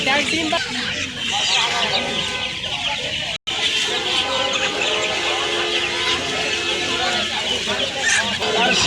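Chickens cluck and fowl call steadily at a busy poultry market in Tongi Bazar, Dhaka, where ducks and pigeons are also sold, with crowd noise and voices throughout and a brief dropout midway.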